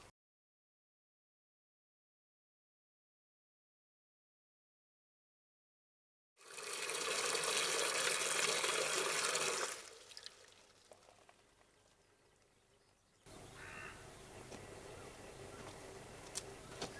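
Water pours steadily onto freshly transplanted snowdrops, a loud rushing stream that drops to a faint trickle, then resumes at moderate strength.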